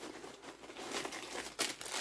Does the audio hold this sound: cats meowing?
no